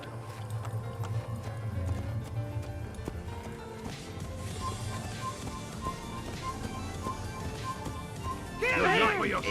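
Horse hooves clip-clop at a run in a video game, a steady rhythmic patter under game music and someone talking, with a brief louder burst near the end.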